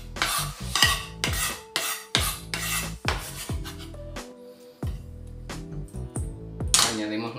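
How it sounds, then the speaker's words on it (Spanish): A spoon stirs garlic into a choripán mixture in a pan, a series of sharp scraping strokes against the metal with a light sizzle between them, each stroke followed by a brief pause. "Removemos y le añadimos nuestro ajito"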